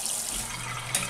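Tap water runs steadily into a sink while a paint brush is rinsed clean, a continuous close hiss with a brief louder splash near the end.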